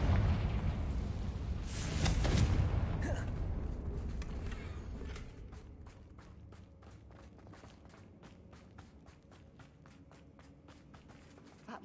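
In Hogwarts Legacy, the Bombarda and Confringo spells burst in a loud, rumbling blast that peaks early, then fades into a faint, rapid ticking patter, with no voices heard.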